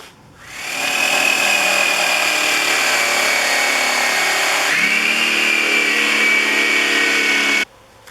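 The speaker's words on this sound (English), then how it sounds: "I'm changing it right now to a much better blade that just goes through this wood like butter" A power saw fitted with a new, better blade cuts steadily through wood, a loud continuous whining buzz that holds for about seven seconds, dips slightly midway, then stops abruptly.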